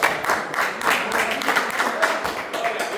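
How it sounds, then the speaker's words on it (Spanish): A church congregation claps together in a lively burst of applause, close and fairly loud, with voices mixed in among the hand claps. "Un aplauso a este pueblo."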